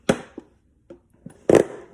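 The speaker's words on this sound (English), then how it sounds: "Sorry for the noise. That's the serrated knife." A serrated steak knife jabs holes in a plastic milk jug, giving four or five short, sharp crunching pops spaced irregularly, the last one loudest, all close up with no talking.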